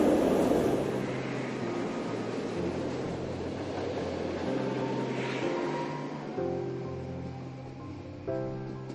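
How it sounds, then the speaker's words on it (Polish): A passenger train runs steadily on its line near Poraj, a continuous rumbling roar with shifting tonal hums from the carriages, fairly loud throughout with no talk over it. "Wystarczy, że wybierzemy się pociągiem."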